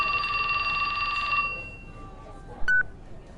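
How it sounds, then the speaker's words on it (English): A phone rings in the video game 428: Shibuya Scramble, a steady electronic ring with bright harmonic tones that holds for over a second, then drops away, followed by a short, higher beep. "His phone rang."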